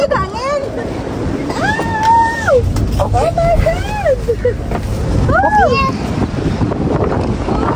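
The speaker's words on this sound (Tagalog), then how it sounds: "Sobrang lakas ng hangin." Strong storm wind in Greenland buffets the microphone in a steady low roar while several people talk and call out over it.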